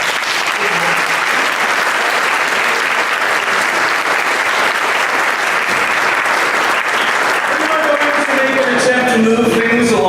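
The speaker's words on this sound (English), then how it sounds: "Applause." A large gala audience claps in sustained, dense applause, loud and close, a steady wash of many hands throughout, with a voice beginning to talk over it near the end.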